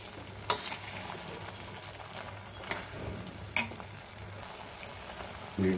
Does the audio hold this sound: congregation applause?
no